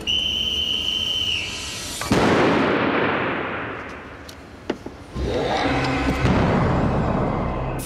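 A bomb disposal robot's water cannon firing at a suspect suitcase, a high steady whine cut off by a sudden loud blast that rushes and fades, followed by a sharp crack and a second roaring burst.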